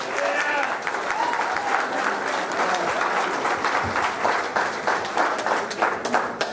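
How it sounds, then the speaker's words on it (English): A crowd at a political fish fry applauds loudly, a dense wash of clapping that holds steady, with a few voices mixed in. "Let's give him a big hand"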